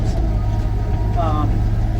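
A mini excavator with a grading bar works a gravel road, its diesel engine droning steadily and close with a brief rise in pitch midway.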